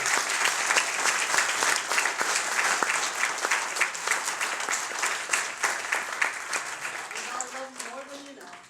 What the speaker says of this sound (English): Let's have another round of applause for Matt Dillahunty.